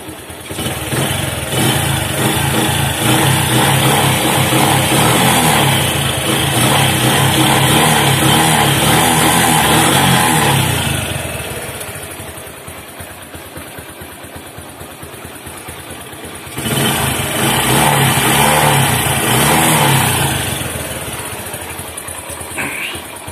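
A Bajaj CT100 motorcycle engine, just revived after being kick-started, running loudly up close, revving high, dropping to a rough idle, then revving again before settling down.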